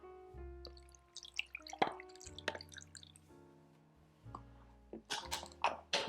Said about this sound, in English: And then we just pour our marinade over the top.